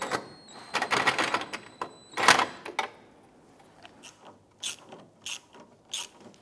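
Nuts being tightened onto the fog light retainer of a 2005-2007 Ford Five Hundred with a ratchet, giving bursts of rapid clicking followed by a few lighter, separate clicks.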